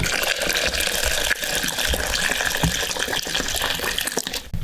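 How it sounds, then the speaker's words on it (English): Water running out of a container holding beeswax, a steady gushing pour that stays loud and close throughout, with no talking. "So we'll let a little bit more water out."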